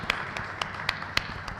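Audience at an association launch event clapping for Mr. Nitin Shankar Nagrali, a handful of sharp, sparse claps spread across a brief moment, fairly faint and uneven.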